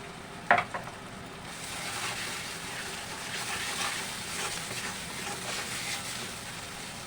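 Spices frying in a pan while cooking muri ghonto with Gobindobhog rice: a soft, continuous sizzle with a sharp clink of a spoon near the start, then gentle stirring scrapes, fairly quiet and steady.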